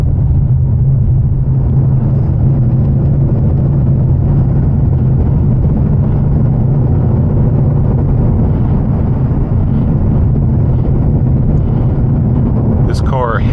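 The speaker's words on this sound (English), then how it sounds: "You can hear a little bit of that supercharger whine, but the exhaust is so loud" A Ford Mustang Shelby GT500 driving on a rough county road, its loud exhaust a deep, constant rumbling drone that fills the cabin and buries any supercharger whine, with a brief higher sweep near the end.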